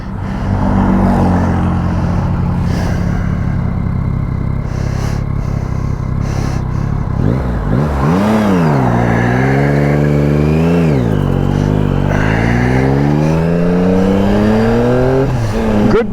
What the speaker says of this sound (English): I got to get used to riding a heavy bike again with put all the luggage on it.